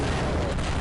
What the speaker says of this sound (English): those distant explosion sound effects sound really good